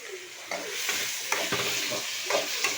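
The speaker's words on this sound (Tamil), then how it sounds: "நல்லா தக்காளியும் வெங்காயம் நல்லா எண்ணெய் பிரிஞ்சு வர அளவுக்கு நல்லா வதக்கணும்" Tomatoes and onions sautéing in oil, a steady close sizzle with scraping stir strokes at irregular intervals, alone without talk.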